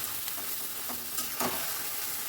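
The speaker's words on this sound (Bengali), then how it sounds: "লোহার কড়াইতে রান্না করছি আর হাই ফ্লেমে রেখেছি গ্যাসটাকে" Food sizzling and being stirred in an iron wok over a high gas flame, a continuous close frying hiss with a few scraping stirs.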